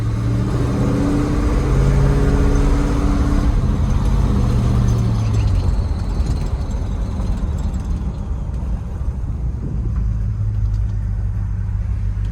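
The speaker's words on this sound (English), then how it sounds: "I'm gonna hit the brakes, show you everything works really well. These front discs, man. Things stop." A 1976 Ford F250 4x4 crew cab pickup with front disc brakes drives along, its engine and road noise a loud continuous low rumble heard from inside the cab, easing slightly as the truck slows.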